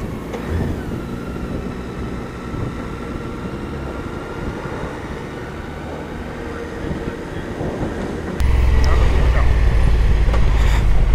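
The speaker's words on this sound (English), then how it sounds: "That signalman's got that barrier right for that train." A train rumbling past a level crossing with a barrier in rural France, a steady heavy roar that swells louder near the end, with people chatting over it.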